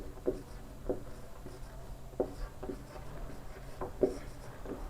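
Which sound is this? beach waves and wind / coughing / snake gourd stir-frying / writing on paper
writing on paper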